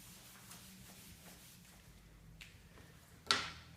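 Eraser or cloth rubbing chalk or marker writing off a classroom board in soft repeated strokes, ending with one louder sharp scrape or knock near the close.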